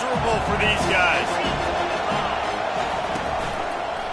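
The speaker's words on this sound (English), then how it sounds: "This crowd going to try to make life miserable for these guys." Stadium crowd at a college football game roars in a steady, dense wash of cheering and shouting, with a commentator talking over it throughout.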